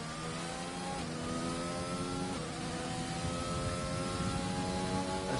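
A race car engine drones steadily at high revs out on track as the final run gets under way. The harmonic pitch climbs and drops with gear changes, and a constant noise bed sits underneath.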